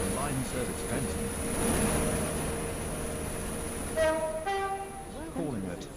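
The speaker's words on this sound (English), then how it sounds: "The train now approaching platform 3 is the Waterline service Benton." An in-game passenger train arriving at platform 3 on the Waterline service of a Roblox railway, rumbling steadily with rising tones and short horn-like pitched sounds toward the end, mixed with ambient station noise.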